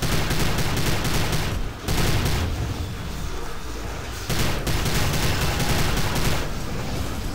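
Sustained bursts of gunfire and blasts in the video game Prey, loud and dense with brief breaks, rolling through near-continuous firefight sound.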